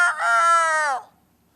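A voice imitates a rooster crowing, a single drawn-out nasal crow about a second long, loud and close, ending abruptly into silence.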